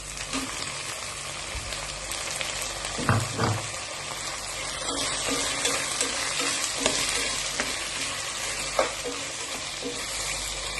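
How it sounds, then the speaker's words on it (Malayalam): Beef curry frying in a pan as tomatoes go in, a steady loud sizzle with scraping stirs and a few clunks of a spoon against the pan. "ഇനി തക്കാളി ഇട്ട് കൊടുക്കാം"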